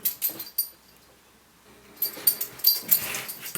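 A puppy wheezes and whimpers in short, close bursts at the start, falls quiet for a moment, then returns with a denser run of high whines and snuffly wheezes, with no talking.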